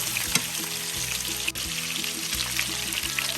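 Meatballs for homemade spaghetti frying in hot oil give a steady, close sizzle with busy crackle across the whole clip, broken by a few small pops and stirring scrapes and no voices.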